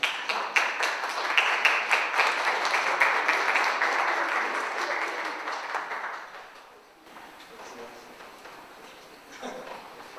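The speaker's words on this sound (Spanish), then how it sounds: "Un aplauso, por favor." Conference audience applauding during a raffle draw, a full round of clapping for about seven seconds that then drops away to a quiet room with scattered faint sounds.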